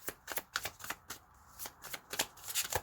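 Tarot cards being shuffled by hand make a run of quick, crisp riffling flicks and soft slaps, close and fairly quiet, without talk.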